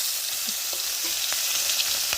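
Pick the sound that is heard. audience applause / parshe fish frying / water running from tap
parshe fish frying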